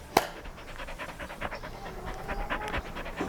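Quick, breathy panting from a dog nearby, rhythmic and soft, with a sharp knock near the start and faint background noise.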